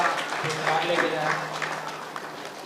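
Scattered applause from a church Good Friday gathering for a girl who won a children's race, modest clapping running under a speaking voice.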